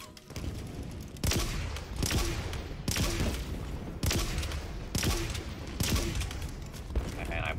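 Gunfire in the Halo Infinite campaign against armored Hunters comes in repeated heavy bursts of rapid shots, loud and close, with booming impacts throughout.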